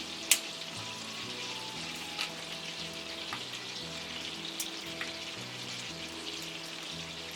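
Cardamom and cinnamon fry in butter with a soft, steady sizzle and occasional light pops and taps, heard close up with no talking.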